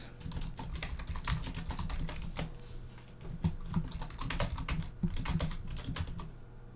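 Someone types on a computer keyboard while filling in text boxes on a website form, a close, busy patter of key clicks in uneven bursts with no talking.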